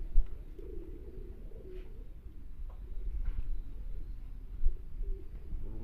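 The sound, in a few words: pigeons cooing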